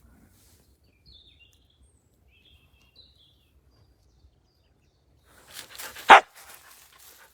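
After near silence, a dog lets out a single sharp bark up close, with a few quieter yips around it.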